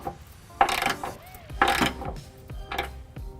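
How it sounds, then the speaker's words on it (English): A 3/4 inch socket on a ratchet snugging trailer hitch hardware on a 2006 Chevrolet Impala, three separate bursts of quick ratcheting clicks with short gaps between, close and clear, no talking. "I've got a 3/4 inch socket. I'm just going to take all of the hardware that I installed by hand and snug it up"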